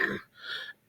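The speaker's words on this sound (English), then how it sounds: "my sinuses just completely fill up and then I cough." A single short cough or throat-clearing from an allergy sufferer with blocked sinuses, one harsh burst followed by a softer raspy exhale, close and alone.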